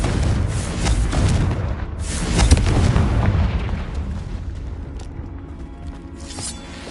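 Confringo fire spell blasts in Hogwarts Legacy, a heavy explosive boom followed by further rumbling bursts and crackling impacts, loud and close, then fading into a lower rumble.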